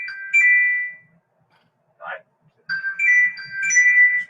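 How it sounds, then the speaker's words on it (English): A loud phone ringtone of tonal electronic bursts plays close by, stops briefly while a voice speaks, then starts ringing again, heard during a police arrest interview. "That is a loud ass phone."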